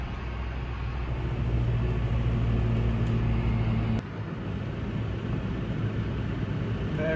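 Small tractor in four-wheel drive pulling a trailer loaded with hay bales across a field, a steady loud engine rumble that continues without talk.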